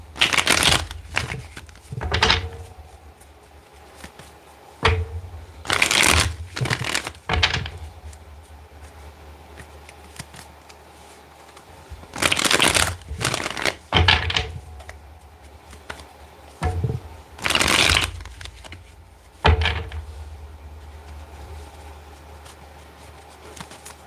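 Repeated bursts of a deck of cards being shuffled close by, riffling flurries separated by short pauses, with no talking.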